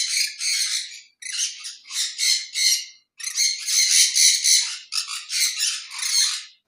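A pair of pet black-capped conures call in loud, harsh squawking bursts, several rapid phrases in a row with short pauses between, close by and with no voices.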